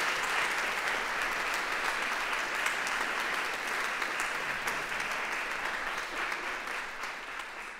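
Audience at a 2023 symposium applauds the staff: dense, even clapping from a sizeable crowd, holding steady for several seconds before gradually tapering off.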